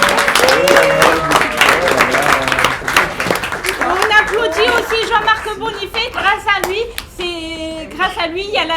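A studio-style crowd at a museum light-show performance for an autism association claps loudly for several seconds, then the applause thins into chatter, laughter and a talking voice.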